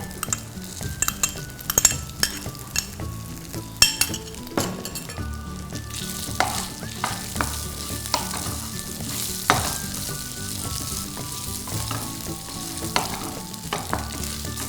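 Boiled potatoes tossed with peanuts in a hot oiled pan, giving a steady sizzle with repeated scraping and clinking stirs of a spoon against the metal, close by and with no voices.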